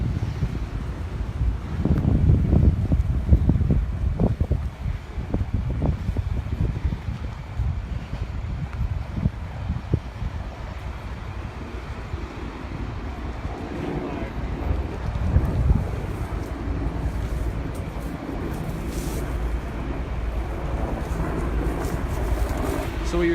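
Strong wind gusts of 40 to 45 mph roar down canyons and foothills during a Southern California wildfire, buffeting the microphone in low rumbling gusts, with a voice talking underneath the noise.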